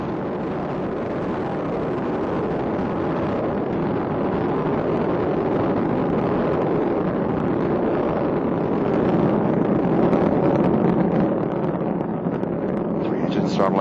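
Space Shuttle Endeavour rocket engines roar during launch from Kennedy Space Center, a steady, broad, continuous rumble that stays loud and unbroken throughout, with a voice speaking over it.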